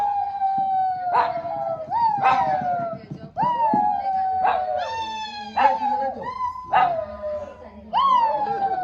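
A dog howls as if singing, close to the microphone, in long wavering howls that rise and fall again and again, loud and continuous through the whole stretch, with a faint voice underneath.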